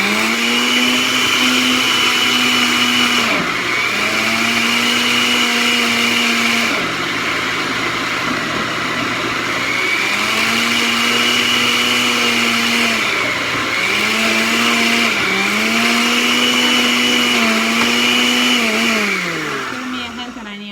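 A kitchen blender churning sofrito runs in long loud stretches, its motor pitch rising and dipping as it catches and frees up, with brief pauses between bursts.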